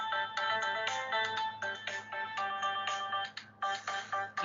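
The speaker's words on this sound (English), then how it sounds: "Sorry, that's my phone." A mobile phone ringtone plays a bright repeating melodic pattern, close and clear, looping several times with short gaps and no talking over it.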